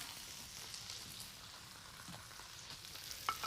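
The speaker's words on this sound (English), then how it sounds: "Let the oil get under there. They'll brown up in about 2 minutes. They get crispy on the bottom." Dumplings pan-fry in oil with a steady, soft crackling sizzle close by, plus a few faint pops and clicks near the end and no voices.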